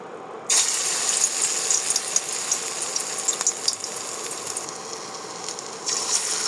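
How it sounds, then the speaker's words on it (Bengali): Battered pui shak (Malabar spinach) leaf fritters hit hot oil and set off a loud, continuous sizzle with scattered crackles and pops that goes on close by. "আমাদের তেল গরম হয়ে গেছে, এখন আমরা বড়াগুলো দিয়ে দিব।"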